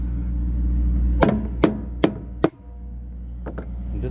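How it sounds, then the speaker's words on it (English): A hammer beats down on a steel band in four sharp metallic strikes over a low background hum, followed by two lighter taps. "And then I take the hammer"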